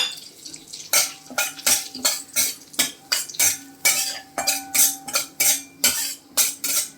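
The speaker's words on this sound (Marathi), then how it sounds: "आपण आता हा रवा छान भाजून घेऊया" Semolina roasting in hot ghee, stirred with a metal spoon that scrapes and knocks against the pan in a quick, regular rhythm of about two strokes a second, close and clear over a faint sizzle.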